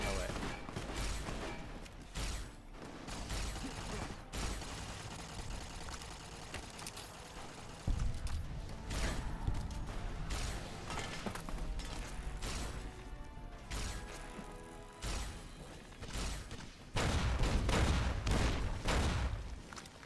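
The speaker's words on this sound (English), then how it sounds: "Are they shooting at me?" Rapid bursts of gunfire and mechanical clatter from combat in the video game Fallout New Vegas, dense and loud throughout with repeated sharp impacts and crashes, no talk over it.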